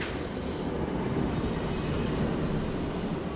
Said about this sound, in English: A friend sent me like the metro sound in the train that he was taking back to the army